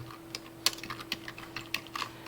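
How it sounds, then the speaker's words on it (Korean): Code being typed on a computer keyboard at a quick irregular pace, close crisp key clicks with a faint steady hum underneath. "우리 초반이니까 한타 타이핑하면서 작성한다라고 했습니다"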